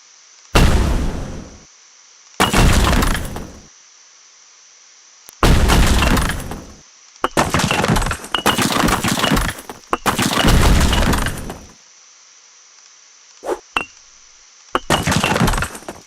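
Bombs going off in a puzzle roguelike video game, a series of loud explosive bursts with glassy shattering and clinking, spaced irregularly with short silences between, one faint brief pop, no speech.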